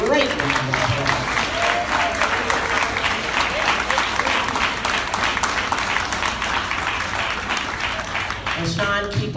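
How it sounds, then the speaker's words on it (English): A luncheon audience at a community awards event claps in sustained, dense applause for the full stretch, steady and fairly loud, with a voice briefly audible near the end. "so I think he deserves a great round of applause."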